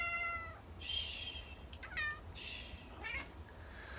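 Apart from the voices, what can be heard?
pet cat meowing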